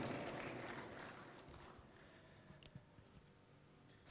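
An audience at a Partai Demokrat event applauds the party seniors of the Majelis Tinggi, a faint, steady wash of clapping that slowly fades, with a few louder isolated claps near the end.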